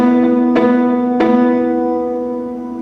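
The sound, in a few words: rhythmic muted piano chords with pedal lifted, sympathetic resonance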